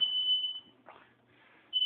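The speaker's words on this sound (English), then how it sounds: "Now the smoke alarm's going off." A smoke alarm set off while cooking pork steaks shrills with a high, piercing continuous tone that cuts out briefly, leaving a quiet gap with faint rustling, then blares again.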